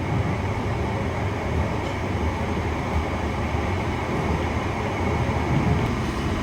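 A London Underground Piccadilly line train runs with a continuous low rumble and rattling wagon noise, steady and close from inside the carriage, with no talking.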